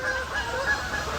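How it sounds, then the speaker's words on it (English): A formation of geese flies south overhead, their honks steady and continuous through the clip against a windy outdoor background. "look at the geese. Tell me you're not all flying south yet."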